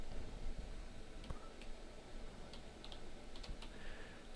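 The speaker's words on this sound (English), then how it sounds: "I'll type line height." Keystrokes on a computer keyboard while entering a line-height value for a heading style during web design, a run of light, quick taps spread across the clip over steady room noise.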